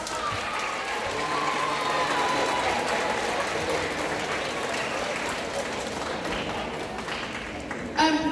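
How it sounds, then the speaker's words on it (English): A school band concert audience applauds the sixth-grade students' parents, a steady wash of clapping from a crowd that carries on evenly for several seconds, with a brief louder burst near the end. "Would you give your parents a round of applause?"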